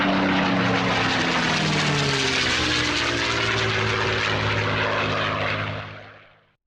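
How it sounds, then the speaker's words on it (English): Powerful aircraft engine roar from F-16 fighter jets taking off, a loud, sustained broadband rumble with sweeping tonal whine that holds steady for several seconds, then fades away abruptly at the end. "72 F-16s take off from Qatar and the UAE"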